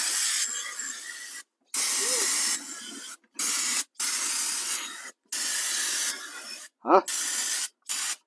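Aerosol cleaner sprays in repeated hissing bursts of one to two seconds, separated by short pauses, to clear brake fluid overspray on a 1975 Ford F600 truck; a brief voice is heard between bursts.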